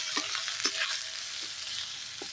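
Ground turmeric, chili powder and cumin powder frying in a pan of mixed winter vegetables, a steady soft sizzle under a few light scrapes of the spoon as the mixture is stirred.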